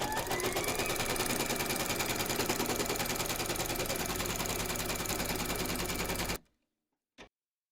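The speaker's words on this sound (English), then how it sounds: "Pop your hoop into your machine and stitch round number 2 to secure it." An embroidery machine stitches batting in place in a hoop, running with a loud, steady, rapid mechanical chatter for about six seconds before stopping abruptly, then one brief click.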